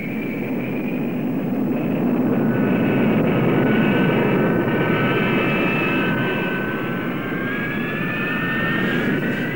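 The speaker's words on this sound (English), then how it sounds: "Ground runs at dry and afterburning thrust were undertaken to prove the basic installation." The jet engine of the XF4D-1 Skyray prototype naval interceptor roars loud and steady through a ground run at dry and afterburning thrust, with rising turbine whines layered over a dense, continuous rumble and no voices.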